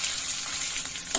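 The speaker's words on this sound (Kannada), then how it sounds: "ಎಣ್ಣೆಯಲ್ಲಿ ಚೆನ್ನಾಗಿ ಫ್ರೈ ಆಗಿಬಿಡುತ್ತೆ" Curry leaves and onion frying in hot oil for yogurt upma: a continuous bright sizzle, close and fairly quiet, with a faint stirring scrape near the end.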